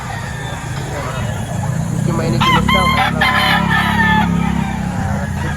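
Chickens and roosters at a busy Saturday livestock market in Lipa, Batangas, with clucking and a rooster crowing mid-clip over steady crowd and vehicle hum, while a person speaks nearby.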